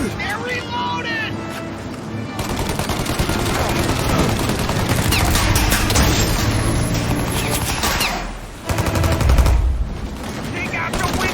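Turret gunfire in Mafia Definitive Edition: sustained, rapid machine-gun bursts rattle nearly nonstop at close range, with crashes and a short lull before a heavy impact, while shouting voices cut in over the shooting.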